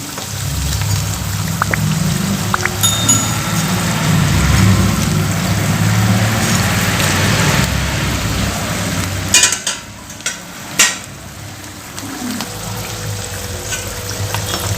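Bonda frying in hot oil, a loud, steady crackling sizzle with a low bubbling undertone, briefly broken by a few clinks and stirs as the pieces are turned.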